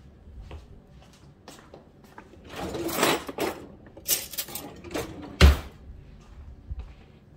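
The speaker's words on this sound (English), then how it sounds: "let me get something to give me a spoon here to stir it up" A spoon stirs freshly made homemade juice with blueberries in it, giving scattered light clinks and scrapes against the container and one sharp, louder clink near the end, close by with no talking.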